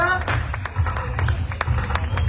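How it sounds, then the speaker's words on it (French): A crowd at a Guadeloupe carnival show claps in quick, rhythmic bursts close by, mixed with voices and a low musical thump. "On applaudit, on applaudit, on applaudit"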